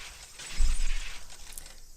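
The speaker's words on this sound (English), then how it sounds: "The unpleasant piercing sound of shattering glass" Glass shatters and its broken shards crunch underfoot in a Higurashi When They Cry anime scene. The noisy burst is fairly faint, followed by scattered crackling with no talk.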